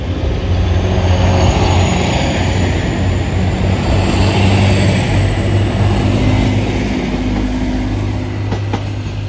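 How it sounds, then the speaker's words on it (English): A three-carriage TransPennine Express train passes by steadily and loudly, a continuous rumble with low engine drone throughout, no speech. "A 3-carriage TransPennine."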